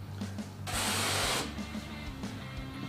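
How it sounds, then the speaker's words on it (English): A pre-spray sprayer hisses carpet cleaning solution onto carpet in one steady burst of just under a second, close and loud over a low mechanical hum that runs throughout. "So just give it an extra bit of a spray"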